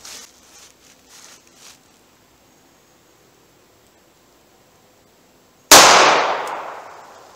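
A snub-nose revolver fires a single round through a chronograph, one sharp, loud report that rings off quickly after a few faint handling sounds and a long quiet stretch.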